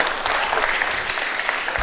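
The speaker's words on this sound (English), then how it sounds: "You can clap too." An audience at an Islamic talk on spiritual and cultural authenticity breaks into steady applause, a dense crackle of many hands clapping evenly throughout.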